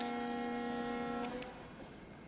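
Passenger train in a video game running along a line toward its terminus, a steady tonal drone with humming horn-like harmonics that fades and drops off after about a second and a half, leaving quieter rumble.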